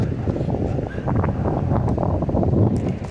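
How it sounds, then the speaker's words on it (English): Wind buffets and rumbles against the microphone in uneven gusts, a loud, rough outdoor roar with no speech, in Southern California at sunset. "It's windy."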